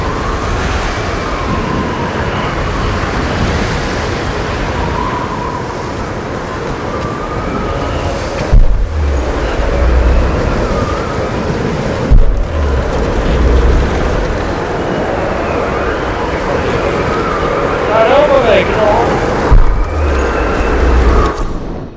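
Steady, loud wind blows across a high mountain area in the Tomb Raider video game, a continuous broadband rush with a few brief thumps and a faint higher whistle near the end.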